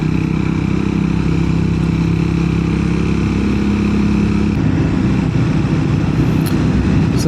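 Motorcycle engine droning steadily while riding along the top of a levee near a recreational lake in Ohio, loud and continuous with wind rush, the tone shifting slightly partway through.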